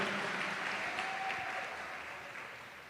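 A church congregation applauds, a dense burst of clapping that starts full and slowly fades over a few seconds.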